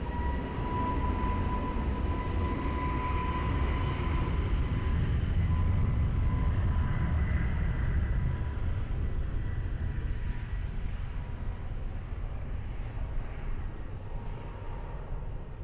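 An airplane takes off at Lisbon Airport, its jet engines making a steady, heavy roar with a broad low rumble that fades slowly over about fifteen seconds, heard from a distance.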